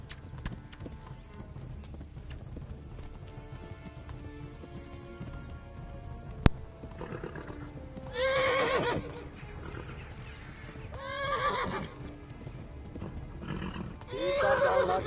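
Rhythmic hoofbeats clatter along steadily while a horse in the video game Kingdom Come neighs loudly several times, one sharp whinny after another, with a faint background hum.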